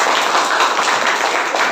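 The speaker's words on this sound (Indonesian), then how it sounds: "beri tepuk tangan untuk Anggun." A classroom of primary school students clapping together for a classmate, a dense, steady patter of many hands close by, filling the whole moment without letup.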